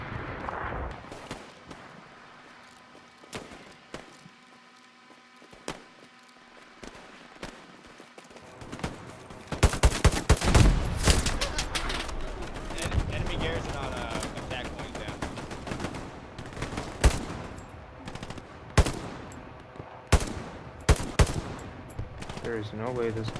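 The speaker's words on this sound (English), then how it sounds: "they're shooting me to my right. Machine gunner to my right." Rapid machine-gun fire rattles through a first-person war video game, with bursts coming from the player's right. The clatter is loud and near, with some distant shots, and it intensifies midway into dense, sustained volleys.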